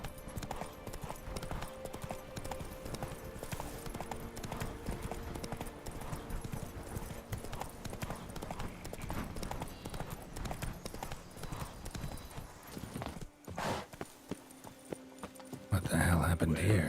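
Horse hooves clip-clop steadily at a walking pace in The Witcher 3: Blood and Wine, with a continuous game soundscape underneath and a brief pause near the end before a louder burst of sound.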